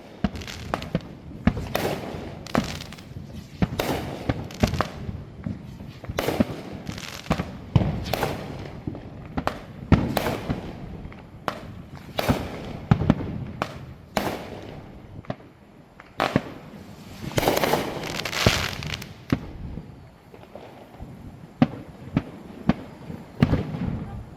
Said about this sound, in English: let's listen to some fireworks.